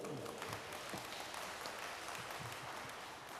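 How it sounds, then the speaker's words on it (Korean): Residents at a neighborhood redevelopment briefing in Bulgwang-dong clap together, a faint, distant wash of applause that holds steady for a few seconds without speech. "이럴 때 박수 한번 쳐주십시오."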